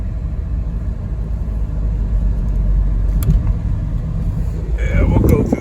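A 1990 Ford Bronco drives along and heads into a turn, its engine a steady low rumble from inside the cab. Someone talks over it, and a brief squeal comes near the end.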